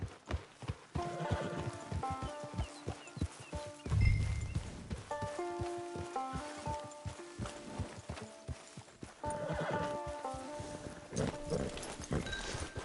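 Horse hooves clip-clopping in Red Dead Redemption 2 online, a steady walking rhythm of close, distinct hoofbeats over game music, with a brief whinny-like snort near the middle.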